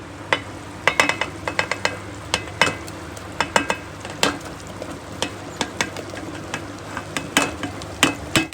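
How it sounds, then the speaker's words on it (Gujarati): Fried cluster beans and potatoes are stirred into a sizzling masala, a spoon clacking against the pan in quick irregular strikes over a soft, continuous frying hiss, with no talking. "આની અંદર હવે આપણે એડ કરશું આપણે જે ફ્રાય કરેલા હતા ગવાર અને બટેટા એ આની અંદર આપણે નાખી દઈશું"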